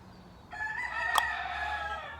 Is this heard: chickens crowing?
yes